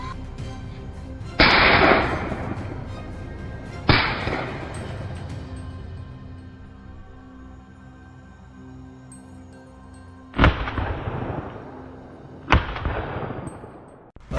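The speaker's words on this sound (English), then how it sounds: "Tom quickly pulled the trigger, cutting off the prey's escape route." Rifle shots ring out during a wild boar hunt near rows of grapevines: four sharp, loud cracks spaced a few seconds apart, each decaying into a brief echoing tail, with no talking.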